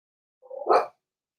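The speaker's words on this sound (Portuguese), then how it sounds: "é o barulho, por isso que a Baby está latindo" A dog gives a single short bark with a brief whimpering lead-in, close and fairly loud, then silence.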